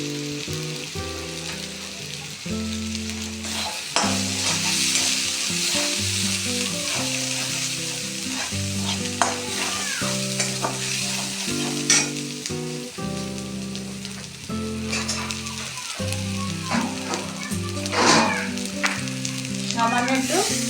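Cumin powder fries in a pan, a continuous bright sizzle with repeated scraping stirs, while low tonal music plays steadily underneath.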